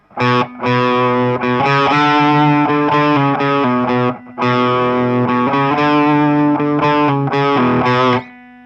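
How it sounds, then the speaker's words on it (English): A heavily distorted electric guitar plays the chunky repeating main riff of a song, loud and close, with brief gaps between phrases. "We'll start off with the main riff though, so you want lots of nice distortion on there."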